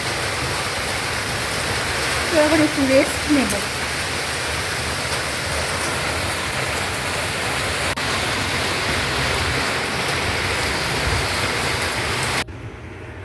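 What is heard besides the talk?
heavy rain falling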